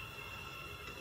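Class 717 train in the Stepford County Railway video game, giving a brief, steady rumble of rolling rail noise with no voices.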